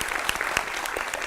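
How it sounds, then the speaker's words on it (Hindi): Studio audience applause welcoming a space expert onto a television news panel: a dense, steady clatter of many clapping hands filling the room throughout, with a few sharper claps standing out. "जोरदार तालियों से इनका स्वागत करें।"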